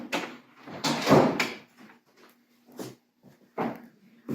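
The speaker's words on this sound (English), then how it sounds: "Go ahead and close the door for me." A door is handled in an indoor government office, giving several short knocking and rattling thuds spread across a few seconds at moderate loudness, followed by a soft latch-like click.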